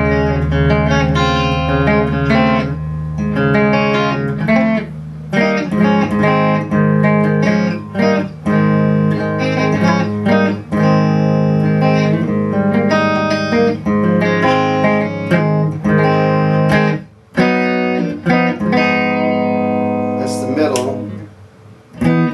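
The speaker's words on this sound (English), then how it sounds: "So this is a clean sound." A Music Man Axis electric guitar played with a clean tone through an amp rings out in strummed chords and picked notes, loud and close, with a few short pauses.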